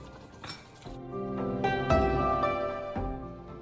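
A metal lid is set onto a pot of chicken curry, giving a few ringing clinks and a resonant metallic clatter as it settles, close and fairly quiet.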